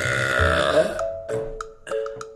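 A man lets out one long, very loud, deep croaking burp up close. Drawn-out and rasping, it breaks into a few shorter guttural pulses at the end.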